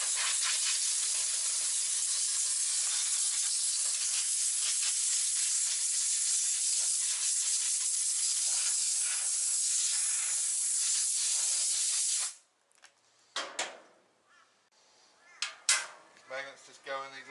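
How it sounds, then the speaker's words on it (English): Wax and grease remover cleaner hisses loudly and steadily from a spray can for about twelve seconds during an automatic transmission service on a Ford BA Falcon, then cuts off, leaving a few faint clicks and light handling sounds. "now a bit of wax and grease remover"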